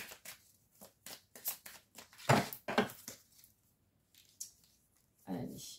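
Oracle cards are shuffled in bursts of papery riffling and slapping. The bursts come in short uneven clusters with gaps between them, close and fairly soft.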